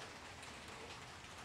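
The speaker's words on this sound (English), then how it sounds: "Starting to rain." Light rain beginning to fall outdoors in Arkansas on a chilly day, a soft, steady, even hiss of drops with no voices.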